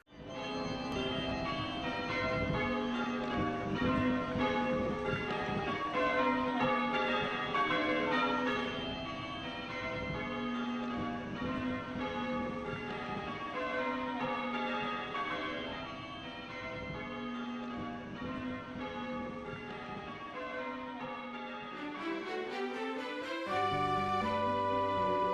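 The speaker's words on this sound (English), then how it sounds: "Many youngsters in New Ash Green showed interest in bell ringing" Church bells rung in a change-ringing sequence in New Ash Green, England, a steady cascading peal of overlapping strikes that carries on for the whole stretch, with no talking.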